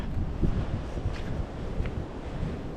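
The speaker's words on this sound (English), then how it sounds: "It's too windy anyway today" Wind buffets the microphone on a Connecticut state park hiking trail, a steady low rumble with gusty bursts over a few seconds, no voices heard.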